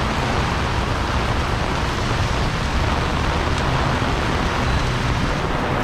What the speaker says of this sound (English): nobody loves to be out in a terrible rainstorm